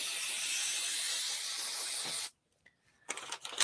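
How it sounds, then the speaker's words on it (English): A close aerosol adhesive spray, 505 spray, hisses steadily for about two seconds, stops, then short bursts of spraying follow over paper. "that 505 spray keeps everything nicely in position"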